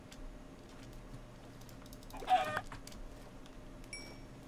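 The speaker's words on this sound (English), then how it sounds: "And there's some more chickens, too." A Minecraft chicken clucks briefly in the middle of the clip, set against steady computer keyboard typing and faint game ambience.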